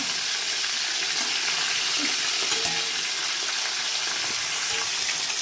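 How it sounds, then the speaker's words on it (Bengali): Tilapia fish frying in a pan, a steady loud crackling sizzle of oil with a faint clink or two, no talking. "মাছটা আমার ভালো করে ভাজা হয়ে গেছে"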